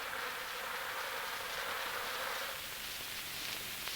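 A soft, steady buzzing hum of many insect wings, continuous and faint, like a crowd of bees fanning inside a hive.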